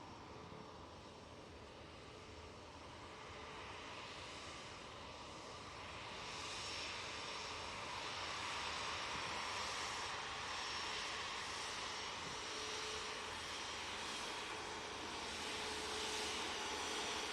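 A jet airliner's engines build into a broad, rising roar at Manchester Airport, heard from a distance and growing louder over the course of the sound, with no voices.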